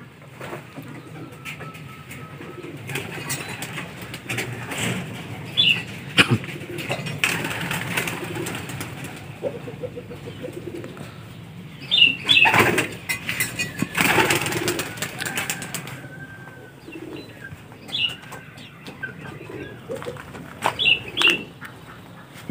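Racing pigeons coo during derby training, soft low calls rising intermittently over a noisy outdoor background, with several louder bursts of bird sounds and bits of human talk scattered throughout.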